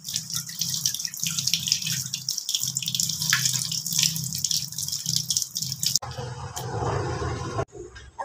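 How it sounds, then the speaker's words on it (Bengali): Water poured from a container for washing hands after pressing soil around a tulsi plant, a steady close splash and trickle that shifts in tone near the end. "হাতটা ধুয়ে নি।"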